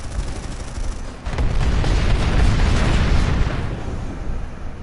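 Heavy cannon fire and explosions in the Planetside 2 video game, a loud continuous barrage of booming blasts that swells after the first second and rumbles on without a break to the end.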